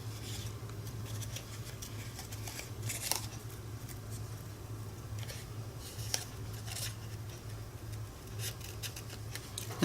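Scissors cut around a leaf shape on a die-cut paper card, making quiet, close snips and light rustles, with a steady low hum underneath.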